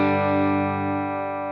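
A single sustained, heavily distorted electric guitar chord played through an HX Stomp rings loud and close and slowly decays, with no voice over it.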